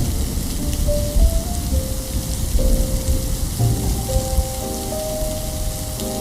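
Steady rain patters and hisses across the whole stretch, with faint tonal hums drifting underneath and no voices.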